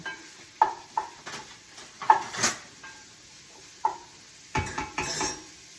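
Sausage browning in a pot while being stirred with a utensil: scattered metallic clanks and scrapes against the pot, irregular and fairly close, over a faint background sizzle, with no talking.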